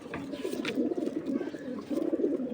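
Pigeons from a breeding female's cage coo in low, steady murmuring phrases throughout, fairly close and continuous, with soft wingy rustles above.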